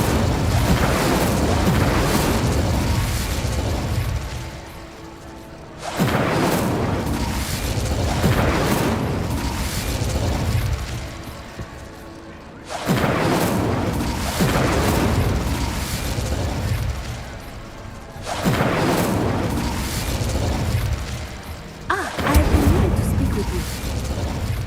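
Explosive spells cast in Hogwarts Legacy come as repeated loud booming blasts in four long bursts separated by short lulls, with speech occurring alongside.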